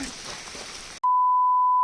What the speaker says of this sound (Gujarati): હા, બીપ મૂકવી પડશે